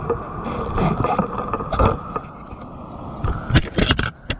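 A strong river current rushes past at a spearfishing dive spot: a loud, steady roar of flowing water with irregular splashy surges and no voices.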